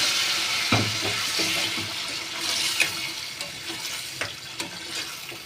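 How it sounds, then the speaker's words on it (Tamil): Red chili beef gravy hits hot oil with a burst of sizzling that settles into a steady crackle, with occasional stirring clinks. "ஆயில் நல்லா ஹீட் ஆனது இந்த கிரேவி வந்து அப்படியே ஆட் பண்ணிக்கணும்"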